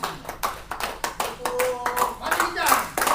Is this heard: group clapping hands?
yes